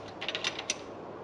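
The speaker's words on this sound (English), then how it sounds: "you need to tighten the lock nut up without the screw part moving" Faint clicking and ratcheting of a spanner tightening a lock nut on a Morris Minor, a quick cluster of small metallic ticks over a steady background hiss.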